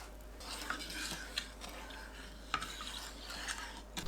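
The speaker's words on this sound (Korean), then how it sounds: "냄비에 진간장 300ml, 미림 150ml, 사탕수수 원당 165g, 물 400ml 넣고 섞어줍니다." A spoon stirs soy sauce, mirin, raw cane sugar and water together in a pot, producing soft swishing and scraping strokes with a few light clinks against the metal, quiet and close, repeating at an irregular pace.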